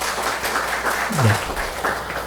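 A church congregation at a Sunday worship service claps to welcome a visiting deacon, a steady, dense round of applause with a brief low murmur of voices beneath it.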